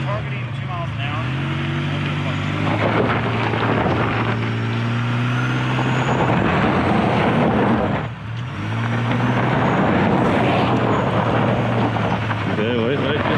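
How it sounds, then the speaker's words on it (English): Turbocharged engine of a Chevrolet Colorado Trail Boss pickup crawling off road with its locker engaged, a steady loud drone and whine heard from inside the cab under ongoing talk. "You can hear that turbo. Turbo sounds great."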